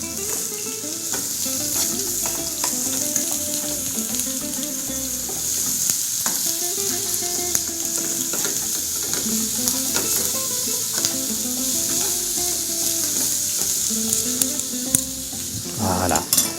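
A courgette mixture fries in a pan with a steady close sizzle, broken by irregular stirring scrapes and clicks throughout, and no voices.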